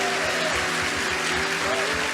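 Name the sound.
congregation applauding in church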